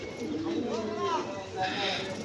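Giribaz pigeons coo softly close by while people talk over them.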